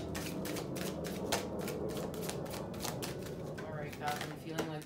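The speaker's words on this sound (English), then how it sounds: "These cards need a reshuffle too." Tarot cards are shuffled in a continuous rapid riffling patter, close and fairly loud, with a voice speaking at times over it.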